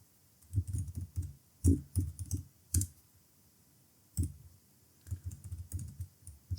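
Keystrokes on a computer keyboard while writing a Docker file for a Python project: close, crisp clicks in uneven bursts with short pauses between runs, heard alone with no talk.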